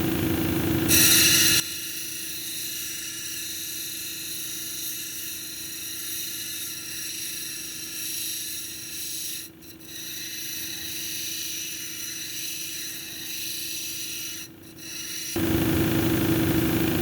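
A lapidary saw or grinding machine cuts a red jasper cabochon down toward its skirt, a steady whining, grinding drone that runs for most of the stretch with two short dips. A louder, brighter burst sits at the start and at the end.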